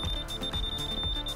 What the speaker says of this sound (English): You can probably hear the other alarms going.